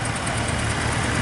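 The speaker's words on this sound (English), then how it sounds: "Nuffield Universal 4, one of the earlier Nuffields, once described by a friend of mine as a thoroughly reliable but boring tractor." An old Nuffield Universal 4 tractor engine runs steadily at a country fair, a continuous low mechanical drone heard close and fairly loud without speech.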